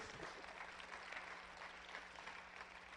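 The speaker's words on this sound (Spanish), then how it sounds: "Dele palmas al Señor de la gloria." A church congregation claps together during a Spanish-language sermon, a steady, dense wash of applause that holds evenly throughout at a moderate distance.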